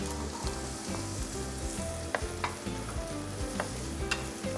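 Steady, close sizzling of chopped garlic and diced onion frying in melted butter in a pan, with soft scraping and occasional clicks of a utensil stirring through it.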